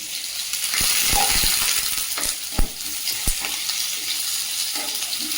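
Sliced onion and chopped ginger fry lightly in a pan, with a close, steady sizzle broken by a few sharp clinks and scrapes of a utensil.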